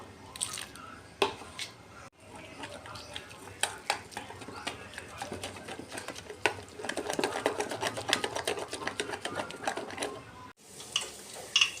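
Gram flour batter with green chilli paste, salt and baking soda is whisked with a little water in a bowl, giving a rapid wet slapping and ticking of the whisk that runs steadily for several seconds with brief pauses.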